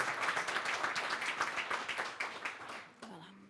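A small crowd claps in a quick, fairly even burst that tapers off after about three seconds, ending with a brief voice.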